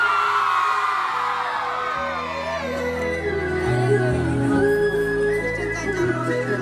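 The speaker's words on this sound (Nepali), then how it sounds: "कलाकारहरू चाहिँ यस्तो हाउभाउ अलिकति हल्ला गरेर जस्तो हुनुपर्छ कि एकचोटि हल्ला गरिदिनु" A group of performers gives a loud collective shout and cheer on cue, overlapping voices whooping and yelling together in a sustained burst close by.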